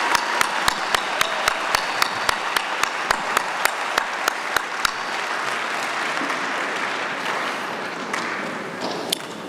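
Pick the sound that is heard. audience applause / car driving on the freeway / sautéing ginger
audience applause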